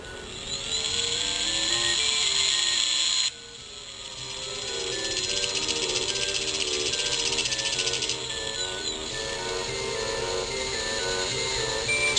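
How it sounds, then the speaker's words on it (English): NASA Mars rover's rock abrasion tool grinding into the rock Adirondack gives a steady high-pitched mechanical whine with a dense grinding rasp, shifting in tone partway through and continuing without pause. "The rat gives us the ability to grind into a rock, exposing the unaltered evidence inside."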